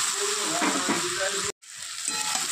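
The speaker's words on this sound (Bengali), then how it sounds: "এবার আমি দিয়ে দেবো ভেজে রাখা পটল দিয়ে।" Previously fried pointed gourd (potol) pieces sizzle loudly in spiced oil, a steady dense crackle that cuts out abruptly for a moment before resuming.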